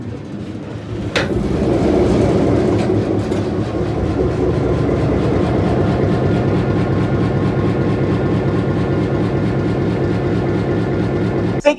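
A GM diesel locomotive engine cranks and fires up after a sharp click, then settles into a loud, steady rhythmic idle chug close by, with no talking.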